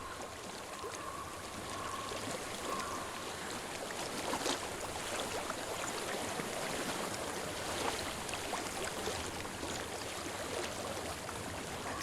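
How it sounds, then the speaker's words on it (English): Flowing water in Hellblade: Senua's Sacrifice, a steady broadband rush of a stream or river that holds constant throughout, with no voice. "Oh, I hear water."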